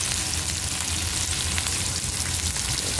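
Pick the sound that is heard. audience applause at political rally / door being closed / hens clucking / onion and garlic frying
onion and garlic frying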